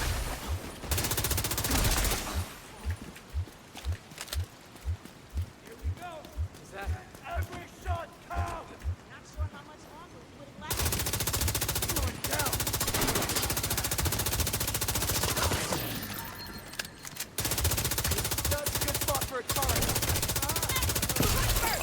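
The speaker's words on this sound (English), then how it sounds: "Y'all are running right in front of me, firing freaking live rounds" Rapid bursts of automatic gunfire from players firing live rounds in a video game, a fast regular string of shots in the middle section amid loud game noise and ongoing talk.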